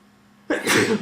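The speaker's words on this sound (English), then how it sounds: "I'm about to sneeze" A single sharp sneeze bursts out close to the microphone after a moment of quiet.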